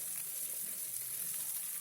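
Coriander and mint fry in a pan as part of the tempering for bagara rice, giving a steady, close sizzle that holds evenly throughout with no talk.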